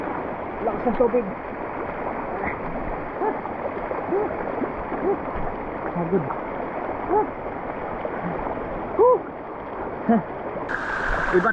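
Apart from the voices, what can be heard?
strong river current flowing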